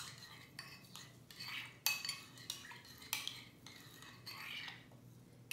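Raw chicken pieces being mixed with sesame seeds in a bowl, with a utensil scraping and clinking against the bowl in irregular strokes, close but fairly quiet, without talk.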